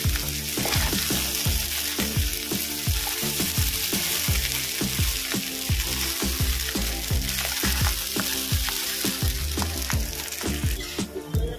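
Rice frying in a wok for hilsa pulao keeps up a loud sizzle while stirring sets off rapid crackling and popping from the pan bottom, dense and close for the whole stretch.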